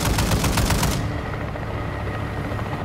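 Rapid automatic gunfire while shooting an enemy in Call of Duty Warzone 2.0 DMZ, a loud, fast burst of evenly spaced shots for about a second, then a steady rotor-like rumble remains.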